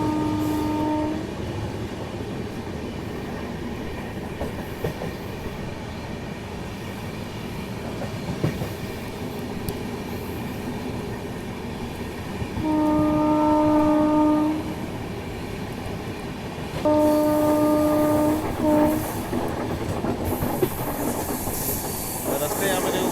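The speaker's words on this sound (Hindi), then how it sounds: "दूसरी तरफ मराठवाड़ा एक्सप्रेस से अपनी क्रॉसिंग होने वाली है" The Marathwada Express, an Indian passenger train, passes on the opposite track during a crossing, a loud continuous rumble and rattle of wagons with two sustained horn blasts, heard close up from aboard another train, with faint voices beneath.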